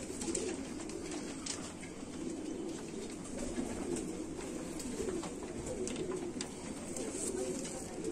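Pigeons coo softly and continuously in a loft, their low, rolling calls overlapping steadily. Faint background noise sits beneath them.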